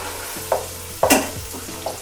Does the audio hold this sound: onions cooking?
yes